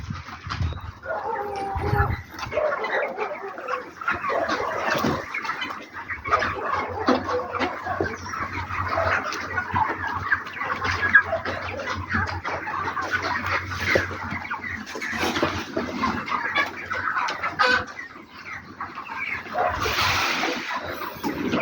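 A crowded broiler poultry farm packed with birds into the distance, filled with a dense, continuous chorus of clucking and chirping chickens, with occasional louder bursts and a dog barking somewhere in the mix.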